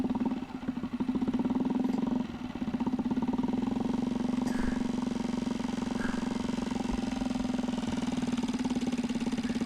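A Mariner 3.5 HP four-stroke outboard motor idles steadily and close by, a continuous droning hum with a slight dip in its beat early on, running alone without voices until its fuel gives out.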